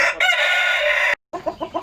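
A Rhode Island Red rooster crows loudly and sustained, then after a brief pause several Rhode Island Red hens cluck in a quick rhythmic series nearby.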